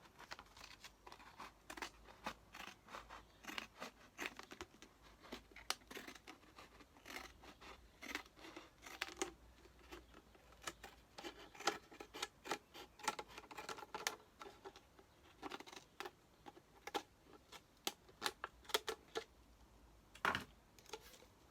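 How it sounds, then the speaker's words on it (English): Rapid, irregular snipping and crackling clicks as scissors cut around a plastic bottle, close up and continuous, with no talking. "you can go in with a pair of scissors and cut round as normal."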